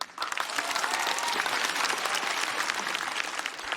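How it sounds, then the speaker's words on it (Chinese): A stand-up comedy audience applauds steadily for a performer, a dense, loud wash of clapping that holds for several seconds before tapering slightly at the end. "掌声再给英宁"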